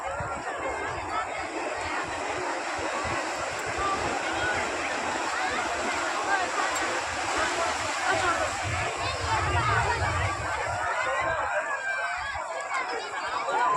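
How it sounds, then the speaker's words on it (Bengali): Big sea waves washing and breaking in a continuous broad roar, loud and close, with crowd noise and voices mixed in throughout. "দেখেছো কি বড় বড় ঢেউ আসছে।"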